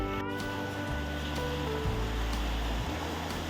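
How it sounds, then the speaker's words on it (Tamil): Sea waves wash ashore at Koh Samet island, a steady, fairly faint surf rumble with low rolling swells, heard alone without talk. "இந்த கடல் அலைகளோட சவுண்டு பார்த்திங்கன்னா அப்படியே மனசுக்கு ஒரு இதமாக இருந்துச்சு."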